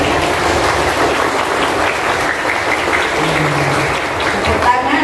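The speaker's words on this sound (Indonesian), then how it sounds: "Tepuk tangan untuk Rajendra Davi." Steady, loud applause fills a school courtyard at an elementary school's Indonesian Independence Day ceremony, with many hands clapping continuously and evenly for the whole stretch.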